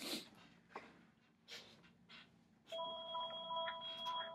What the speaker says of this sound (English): let me kill that phone call.